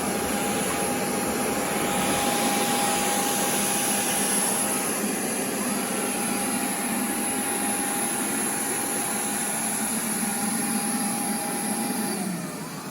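A Bissell ICONpet robot vacuum on its first cleaning run gives a steady, loud whirring drone with a thin high whine, close by and constant, easing slightly near the end.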